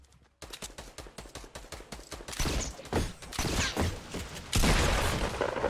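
Rapid bursts of gunfire in a Fortnite match, starting as quick evenly spaced shots and growing louder and denser, with heavier blasts toward the end and no talk over it.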